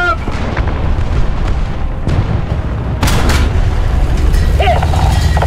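Tank cannon fire in the War Thunder combat game, loud booming shots over a constant low engine rumble, with one sharp blast standing out near the middle and shouted voices mixed in.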